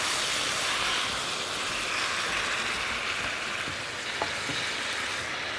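Coriander and garlic fry in a pan while being stirred, making a dense, even, loud sizzle that runs unbroken throughout with faint scraping touches.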